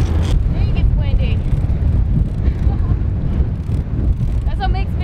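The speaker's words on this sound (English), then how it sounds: "Dang, it's windy." Strong wind buffets the microphone while fishing at sea off the Cayman Islands, a loud, rumbling low roar, with engine-like noise and brief voices mixed in.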